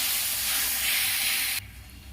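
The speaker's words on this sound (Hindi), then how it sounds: "और ये जो पेस्ट बना के रखी हूँ उसे डाल देती हूँ। इसे बहुत नहीं भूनना है" Masala paste for masala paneer hitting a hot pan, giving a loud, steady hissing sizzle for about a second and a half before it abruptly drops to a quieter simmer.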